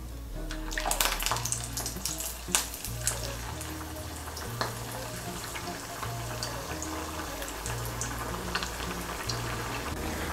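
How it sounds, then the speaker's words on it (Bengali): Potato and semolina snacks frying in hot oil in a wok, giving a steady, moderately quiet sizzle and crackle throughout, with a low steady tone running underneath. "কড়াইতে তেল বসিয়েছি, তেলটা গরম হয়ে গিয়েছে। এর মধ্যে আমি এগুলো ভেজে নিচ্ছি।"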